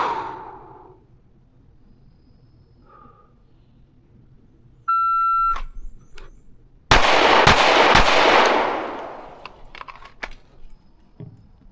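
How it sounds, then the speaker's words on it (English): A Canik Prime pistol fired in a draw-and-fire drill: a shot-timer beep, then a rapid loud burst of close shots with lingering echo, and faint movement noises afterward. "The next one I'm shooting will be draw and fire 3 shots to the body, and then draw and fire 2 to the head box"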